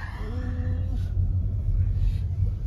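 A car engine rumbles low and steady as the vehicle pulls away, with faint voices murmuring over the opening moments.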